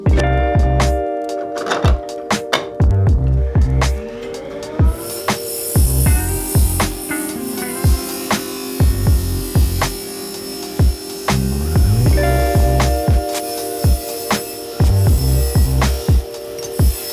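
A power saw whines loudly as it cuts through a plywood sheet in a home workshop, a sustained buzzing motor tone with repeated heavier bursts as the blade bites in.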